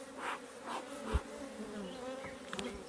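Honeybees swarm around an opened hive during a varroa mite count, their dense, continuous buzz filling the air with close passes of individual bees rising and fading, no voices over it.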